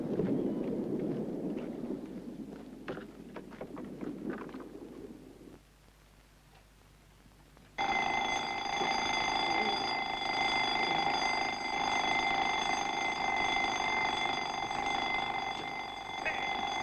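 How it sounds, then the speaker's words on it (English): An alarm bell starts ringing loudly and continuously after earlier talk and a brief quiet pause, holding a steady metallic tone to the end. "Turn off that damn gong!"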